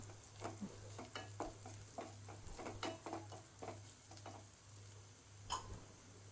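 Onion and garlic frying with cumin and panch phoron in a pan, a quiet, steady sizzle broken by repeated stirring scrapes and light clicks, with a constant low hum beneath.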